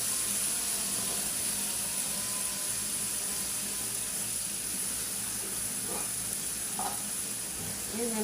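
Small fish frying in hot spiced oil in a pan, giving a steady, close sizzling hiss throughout, with a few faint stirring clinks near the end.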